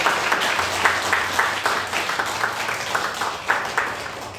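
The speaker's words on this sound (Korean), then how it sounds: "돌아서서 인사할 때 여러분 큰 박수로 축하해 주시기 바랍니다" Korean church congregation applauding during a flower presentation after a Easter service, a dense, steady round of clapping with a faint low hum underneath.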